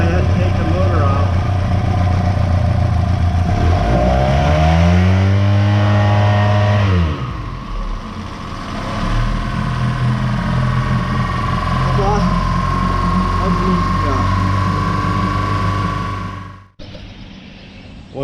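Boat motor running steadily near the water, a loud close drone that rises and falls in pitch midway through, then cuts off near the end, with a voice talking over it.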